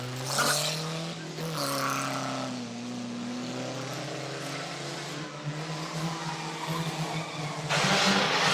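Banger stock cars racing on a track, several engines droning and revving with rising and falling pitch as cars accelerate, loud and continuous with bursts of louder roar near the start and end.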